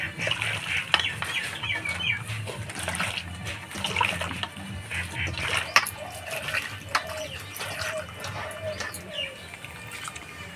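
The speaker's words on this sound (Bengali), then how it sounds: "সয়াবিনটা গরম জলে ধুয়ে আরও একবার আমি ঠান্ডা জলে ভালো করে ধুয়ে নিলাম।" Soybean chunks are washed in water, with repeated splashing and sloshing bursts alongside squeezing sounds, fairly close and moderately quiet, and no talking.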